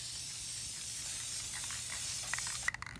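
Steady broadband hiss of a spray coat being misted in light passes onto a 1997 Honda Integra project car, continuous throughout with a few faint clicks and rattles near the end, no talking.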